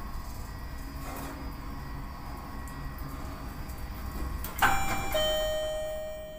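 An electric bell rings out to signal a three-phase electric hoist goods lift moving in an iron workshop: a sharp, loud ding followed by a sustained ringing tone that lingers over a steady machine hum.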